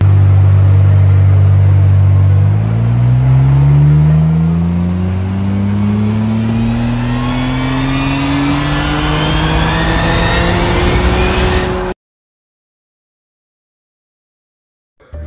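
A stock Nissan R34 GT-R engine revs up on a dyno, its loud note climbing steadily in pitch for several seconds before cutting off abruptly into silence.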